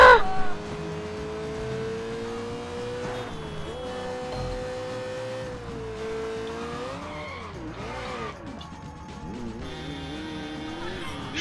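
A car in the video game Sleeping Dogs drives with a sustained engine tone that rises and falls through gear shifts, with tire squeals near the middle and a brief louder burst at the start.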